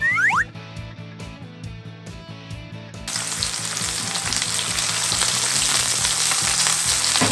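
Pork belly and green onion pancake batter hitting hot oil in a pan, with a burst of loud, steady, close frying sizzle after a few quieter rhythmic clicks and taps, no talking.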